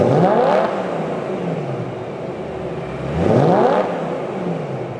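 A BMW E90 M3 with an aftermarket exhaust system revs twice, each loud blip rising sharply then falling back to a steady idle rumble, with no voices.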